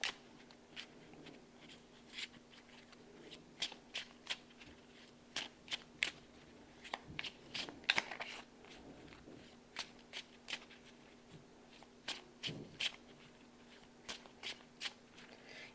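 Tarot cards are shuffled and drawn by hand in a quiet room, giving a long series of soft, crisp card flicks and riffles at irregular intervals, close and faint.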